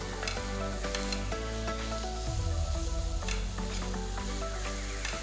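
Grated beetroot sautéing with onions in a pan, a soft, continuous sizzle and light stirring heard under a steady tonal background hum, with no voices.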